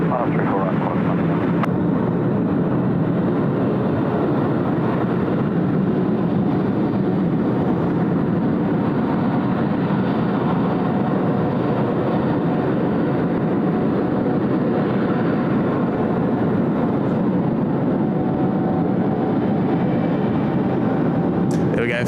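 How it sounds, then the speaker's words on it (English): A Philippine Airlines jet from Manila rolling along runway 34 right at Sydney Airport, a loud continuous jet engine roar filling the whole stretch, with talk over it. "Philippines just arriving there from Manila this morning, just rolling in on runway 34 right"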